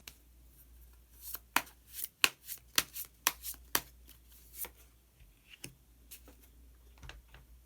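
Tarot cards are shuffled and drawn close up, with a quick run of crisp flicks and slaps followed by a few scattered taps against a quiet background.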